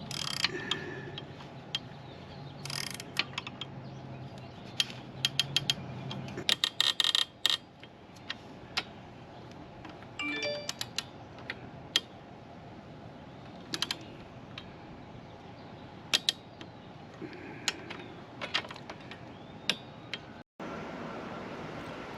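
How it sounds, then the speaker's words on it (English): Metal clicks and taps from a 13mm wrench and torque wrench tightening two M8 bolts on a T-Rex Racing center stand clamp under a Honda Rebel 1100, heard as scattered sharp ticks over a low steady background hum. "Tighten down the two M8 bolts with a 13mm wrench, then torque them to 15 foot-pounds also."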